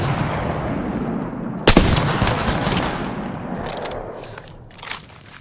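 Gunfire in Apex Legends during a ranked Season 2 match: a sharp, loud shot bursts out after a steady noisy bed, followed by a long decaying rumble and a smaller crack near the end.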